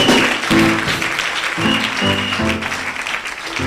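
A church congregation applauds in praise of God, a dense wash of clapping that continues throughout, with a voice and sustained tones sounding over it.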